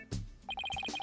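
A telephone in the video game Ace Attorney Dual Destinies rings in a fast run of short, evenly spaced electronic beeps, loud and close, after a couple of brief thuds at the start.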